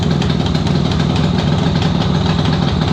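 A loud, close 1976 Suzuki GT750 motorcycle engine idling with a steady, rough, pulsing rumble throughout.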